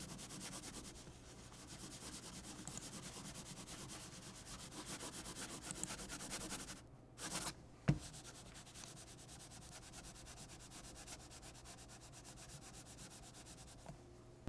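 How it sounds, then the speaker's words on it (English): Zowie EC2-CW mouse skates scratching across an Artisan Heian mouse pad, a steady, close, gritty rubbing that runs continuously, with a brief break and a soft knock partway through. "These are so scratchy out of the box, and what made it worse was I was using an Artisan Heian at the time."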